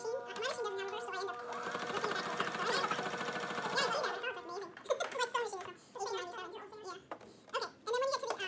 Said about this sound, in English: Set your needle down into the beginning of the dart at the 1 inch mark on the top of your fabric, and sew.